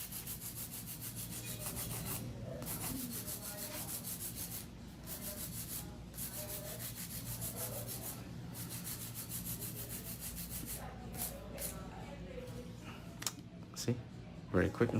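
Hand file rubbing over an acrylic powder nail in steady back-and-forth strokes, filing the coffin-shaped nail, heard fairly close under soft background music.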